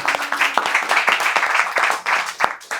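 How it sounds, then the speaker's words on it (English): Meetup audience breaks into a round of applause at a design portfolio critique night in Abu Dhabi, a dense patter of many hands clapping steadily for a few seconds, close and lively. "Round of applause."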